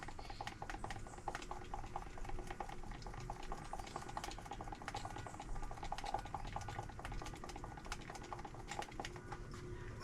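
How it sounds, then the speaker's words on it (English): Two-part Awlbrite countertop finish being stirred in a container, a busy run of small scraping and tapping clicks, steady and close for about ten seconds without speech. "You're gonna stir this, stir it really good. Spend a minute mixing this thing up."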